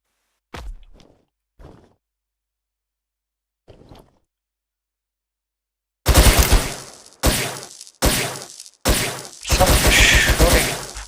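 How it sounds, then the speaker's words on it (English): FPS video game gunfire, a few faint taps early on, then loud bursts of rapid automatic shots in several close, separate volleys near the end. "Some shooting from somewhere."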